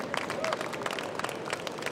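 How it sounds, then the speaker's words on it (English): Audience at a fitness and wellness stage show in Orlando gives a round of applause, crisp individual claps from a modest crowd, close and steady, with faint voices mixed in. "Everybody, let's have a round of applause for Karen and Carolyn"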